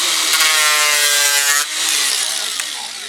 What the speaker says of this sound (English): take that sander and sander down